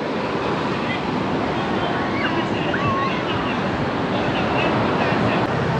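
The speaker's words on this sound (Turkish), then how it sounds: "Bakın ne kadar dalgalı bir deniz." Rough sea surf at a beach in Da Nang, Vietnam, roars as a continuous, loud, broadband wash with wind noise, waves steadily churning with no clear breaks.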